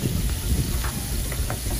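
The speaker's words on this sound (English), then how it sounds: "I'm frying it for 10 minutes on both sides." Tilapia frying in a pan over low heat makes a steady, close hiss and sizzle with a few soft pops and no voices.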